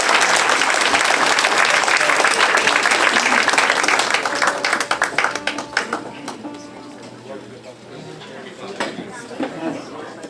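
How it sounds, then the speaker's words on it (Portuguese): Audience applause at a Casa dos Açores community reception in Hilmar, loud dense clapping that fades after about five seconds into scattered claps and voices talking nearby. "é uma pessoa que de facto merece o nosso carinho e um grande aplauso também"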